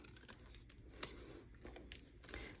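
Scissors snip around a paper stamped monkey shape in a papercraft project, giving soft close cuts over a hissy background. One sharper snip stands out partway through, and no one speaks.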